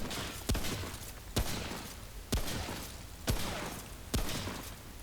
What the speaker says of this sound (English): let's see what the hunter's rifle looks like when you shoot.